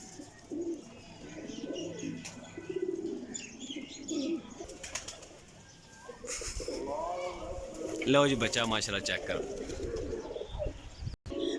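Pigeons coo and chirp in a loft with rare Teddy pigeons, soft low calls repeating under a man's speech, with a brief wing flutter.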